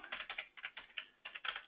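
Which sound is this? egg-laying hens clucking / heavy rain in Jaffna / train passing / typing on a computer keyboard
typing on a computer keyboard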